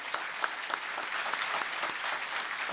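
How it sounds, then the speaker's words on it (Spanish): Audience applause at a theological debate, a short, fairly faint burst of steady crowd clapping heard from a distance in a hall, with no voices over it. "Demos un fuerte aplauso"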